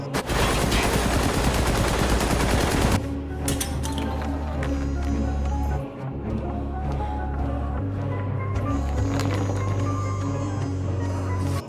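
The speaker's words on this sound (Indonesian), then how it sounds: "Tak lama kemudian Vanessa datang dan menembaki mereka." Gunfire in a tense film scene: a dense, loud burst of rapid shots for the first few seconds, then a busy mix of scattered bangs, rumble and low droning score continuing to the end, with possible faint voices underneath.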